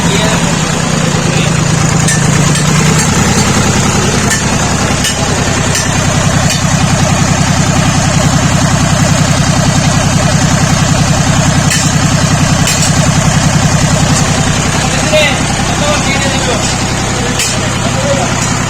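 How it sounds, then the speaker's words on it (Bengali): A Lister marine inboard lifeboat engine runs steadily after a battery self-start, a loud, continuous low diesel drone with a constant idle throb throughout, with a person talking over it. "খুব ইজিভাবে ব্যাটারির সাহায্যে এই ইঞ্জিন অনায়াসে সেলফ স্টার্ট দেওয়া যায়।"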